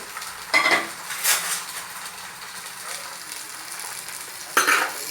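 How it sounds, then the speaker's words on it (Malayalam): Steady oil sizzle of whole shallots sautéing in a pan with a couple of scraping stir strokes; a person talks over the cooking. "ചെറിയുള്ളി വഴറ്റിയെടുക്കുക"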